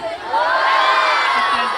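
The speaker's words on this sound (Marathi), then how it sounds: "हा जरा जोरदार टाळ्या बोलवू द्या आमच्या सगळ्यांसाठी" A high school audience in Ghansoli bursts into loud, close cheering and whoops of children's voices, a brief swell of crowd noise.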